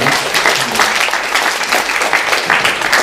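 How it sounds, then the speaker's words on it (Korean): A church congregation at Sunday worship claps together to celebrate members' birthdays, a steady, full wash of applause throughout. "다 같이 박수로 축하하겠습니다"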